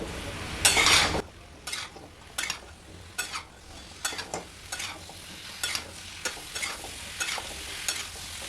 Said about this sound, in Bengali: এখন 5 মিনিট এইভাবে কন্টিনিউ নাড়াচাড়া করে একটু ভেজে নিতে হবে মশলার সঙ্গে